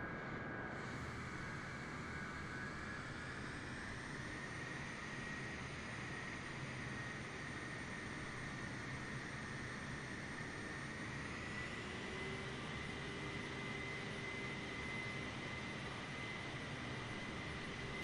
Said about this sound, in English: Oh my god, taxiing this thing is horrible.